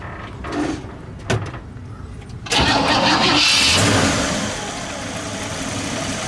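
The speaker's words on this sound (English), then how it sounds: "let's fire it up since we've got the engine in the sun" A 1956 Cadillac Custom View Master station wagon's engine cranks over and catches, settling into a steady, full running note after a couple of short starter bursts, heard up close and outdoors.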